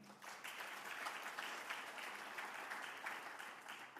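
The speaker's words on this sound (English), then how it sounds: "so big applause for them" Audience applause at Drupal Dev Days, a dense, steady wash of many hands clapping from a conference crowd, moderately distant and even throughout without a break.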